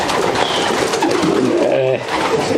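Racing pigeons in a loft give off a dense, continuous murmur of cooing, with several birds overlapping closely and a few louder coos rising near the end.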